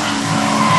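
Short-wheelbase Nissan S13 drift cars at a 2005 New Zealand drifting event, loud and close: a sustained howl of engines under heavy throttle with continuous tire squeal and skidding, filling the whole moment without a break.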